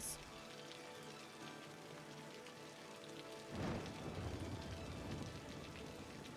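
Steady rain pattering in the city-building game Cities: Skylines, a continuous wash of drops with a brief swell partway through, quiet and even, without speech.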